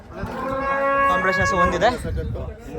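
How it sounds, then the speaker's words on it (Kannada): A competition cow lets out a long, loud, drawn-out moo close by while being loaded onto a truck, with people talking around it. "ಹಸುನ ಲೋಡ್ ಮಾಡ್ತಾ ಇದೀವಿ"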